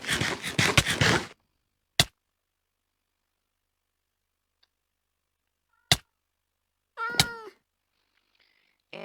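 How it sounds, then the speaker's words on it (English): A Minecraft cat inside a witch hut gives a single clear, wavering meow near the end, after a short noisy burst at the start and two sharp isolated clicks, with silence between and no talking. "we got a cat"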